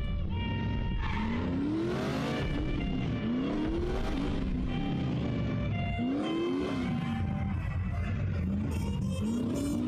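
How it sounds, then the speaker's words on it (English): A powerful car engine in The Saboteur, a WW2 Paris video game, revs repeatedly, its pitch sweeping up and down through gear changes, loud and close with some tire noise. "I love that sound of powerful engines."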